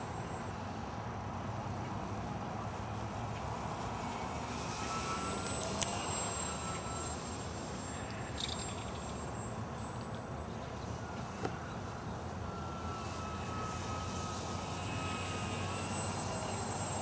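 A Park Zone F4U Corsair RC model airplane flies at slowed speed, its electric motor giving a steady, continuous whine with a faint high tone held throughout, moderately distant and without talk.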